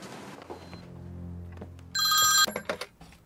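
A telephone bell rings in a short film scene, a bright electronic trill bursting in loudly for about half a second and then breaking into a few shorter rings over a low hum.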